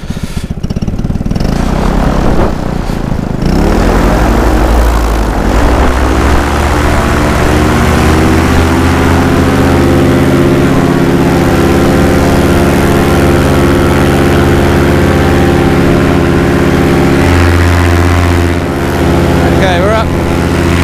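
A paramotor engine roars at full power for a takeoff on a rocky, cold, windy evening, a loud, steady propeller drone with a rising pitch early on, continuous and close throughout.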